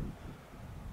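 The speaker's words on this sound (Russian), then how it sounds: "Вот такой вот ветер." A strong southerly wind blows outdoors in open country, a steady, rough buffeting rush that fills the whole second with no pauses.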